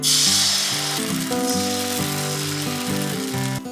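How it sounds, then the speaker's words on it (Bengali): Patishapta pitha batter ladled into a hot, ghee-greased pan on medium-low heat, giving a loud, continuous close-up sizzle that holds steady throughout. "কড়াই গরম হলে অল্প করে ঘি মাখিয়ে নিয়ে আঁচটা মিডিয়াম লোতে করে দিতে হবে এবার হাতায় করে মিশ্রণটা কড়াইতে ঢেলে দিয়ে"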